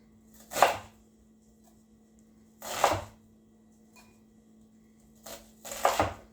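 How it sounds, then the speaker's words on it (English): A knife chops peppers on a cutting board for smoky vegetarian chili, with a few separate, close thuds at uneven intervals over a faint steady hum. "we're going to chop this up about the same size"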